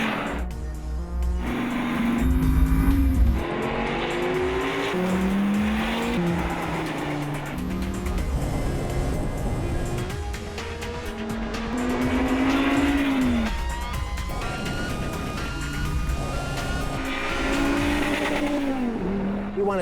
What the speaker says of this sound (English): The Generation 5 Viper breaks the track record at the infamous Laguna Seca Raceway in